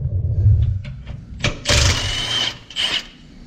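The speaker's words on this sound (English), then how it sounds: "let's get the half inch gun" A half-inch impact gun loosens a sway bar bolt with a few short bursts of buzzing hammering, the longest near the middle, with quiet pauses in between in a garage setting.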